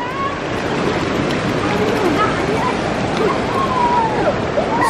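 Someone wades across a cold Nepali river, with broadband rushing water and splashing loud and near throughout, and a voice making faint squeals and exclamations over the flow.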